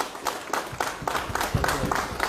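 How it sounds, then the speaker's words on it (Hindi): Rhythmic clapping from a small group at a political gathering in Surankote welcoming a senior BJP leader, steady repeated claps in a brief burst, moderately loud and close. "जोरदार तालियों के साथ"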